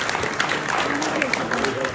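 An audience at a mushaira claps in a dense, steady wave of applause filling the room, with voices mixed in under the clapping.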